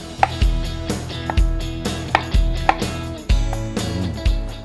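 Steady knife chops on ginger on a cutting board, a run of sharp knocks at an even rhythm with slight pauses between bursts, close and clear.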